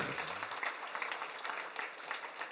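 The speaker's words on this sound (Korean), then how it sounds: "박수 박수 할렐루야." A church congregation applauds during a Sunday morning worship service, a faint, fairly steady patter of many hands clapping with a low voice fading out at the very start.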